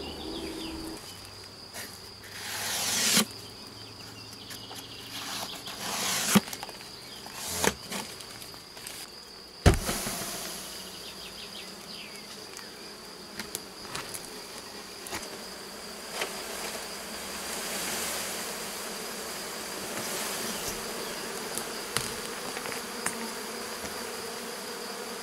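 Bees buzz around a hornet nest box baited with propolis and wax, a steady insect drone outdoors with scattered nearby buzzing passes and a few sharp knocks, no talking.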